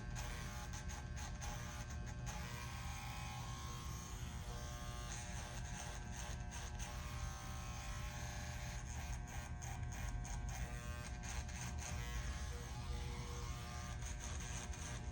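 Electric hair clippers blend a burst fade using the blade corners, a steady close buzzing hum that runs throughout with slight flickers as the blade moves through hair.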